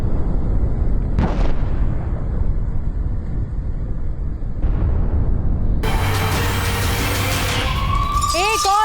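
Hezbollah rocket strikes on Haifa, Israel: two deep distant booms a few seconds apart, then a loud burst of rumble and crackle joined by a rising, wailing siren, with a voice partly heard over the blasts.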